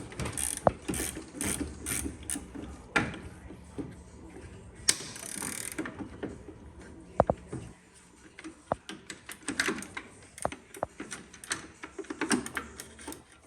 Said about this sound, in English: Any second, the Supercharger pulley should come right off.